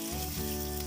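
Onion sizzling in hot oil for a tadka tempering for moong masoor dal, a short burst of steady, close frying hiss.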